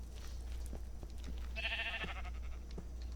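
A sheep bleats in a video game, one short wavering call in the middle against a quiet background with a few faint clicks around it.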